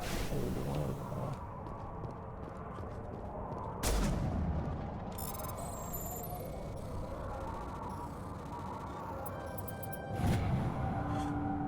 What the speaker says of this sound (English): Why are you shooting your shotgun